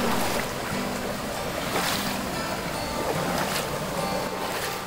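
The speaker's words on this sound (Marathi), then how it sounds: "3 धबधबे एकत्र खाली आलेले आहेत." Three waterfalls plunging together, a dense continuous roar of rushing water heard steadily up close with no voices.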